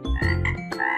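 A frog croaks loudly and close by, giving a few quick, deep calls in under a second with no other sound.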